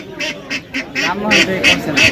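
Chinese ducks quack in a run of short nasal calls, about eight in quick succession, close by, with noise from a traditional village market in Mymensingh faintly underneath.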